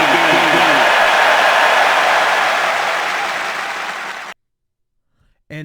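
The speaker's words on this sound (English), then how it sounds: "And my applause is way shorter than Rich's" Applause sound effect from a soundboard button: dense, loud clapping that runs steadily for about four seconds, then cuts off abruptly into silence, followed by a brief faint noise at the end.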